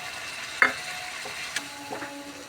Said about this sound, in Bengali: আমি সামান্য জল দিয়ে মশলাটা আবার ভালোভাবে কষিয়ে নেব।